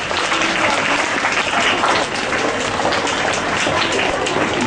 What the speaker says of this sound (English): Please clapping all of you, please.